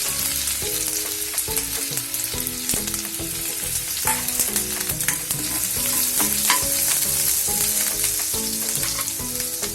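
Garlic frying hard in hot oil with cumin and mustard seeds for a monsoon vegetable dish, a loud dense crackling sizzle running throughout, very close, with faint music underneath and no speech.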